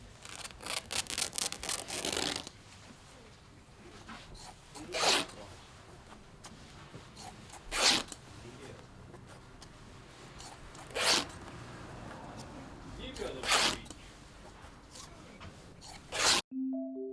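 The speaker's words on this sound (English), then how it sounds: "each piece was carefully hand cut with scissors. The rhythmic sound of the cutting works as ASMR" Scissors cut by hand through Japanese hand-dyed cotton towels, giving soft close-up rustling and snipping, quick at first and then spaced at a steady unhurried rhythm, with a brief clack at the end.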